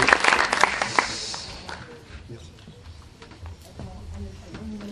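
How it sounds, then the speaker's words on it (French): An audience applauds at a business awards ceremony, a dense burst of clapping that quickly thins and fades as voices carry on over it. "Bravo à vous, applaudissez donc Romain Perret de la société FCP."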